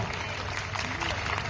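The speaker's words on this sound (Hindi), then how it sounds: "एक बार जोरदार तालियां" Audience applause at the Deoria Mahotsav 2024 stage festival, a steady dense wash of clapping from a large crowd with a low hum underneath, sustained and fairly even throughout.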